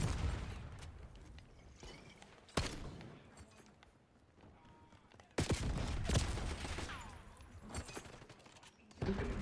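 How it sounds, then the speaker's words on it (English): Video game combat plays out with bursts of gunfire and sharp blasts from Semtex explosives. Loud volleys and booms come and go over several seconds. "Semtex incoming."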